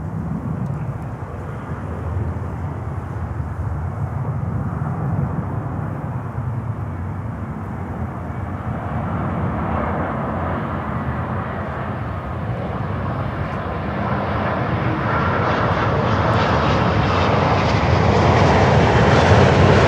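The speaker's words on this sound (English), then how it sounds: "And we go in with this Dreamliner here" Boeing 787 Dreamliner airliner arriving, a broad jet roar growing steadily louder as it approaches, with a rising whine toward the end.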